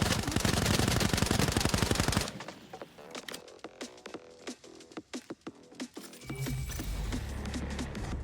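Full-auto fire from an SMG or assault rifle in Arena Breakout Infinite opens with a loud sustained burst. Scattered single clicks and thuds follow, then a low rumble at the end.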